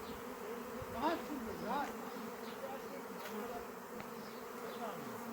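A honey bee swarm settled on a quince tree hums with dense, continuous buzzing, with individual bees whizzing past close by over a steady outdoor drone.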